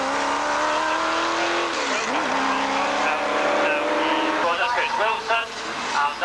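Lotus Elan race car circling a motorsport circuit, its engine note rising and falling loudly over a steady roar of other cars, with a commentator talking throughout.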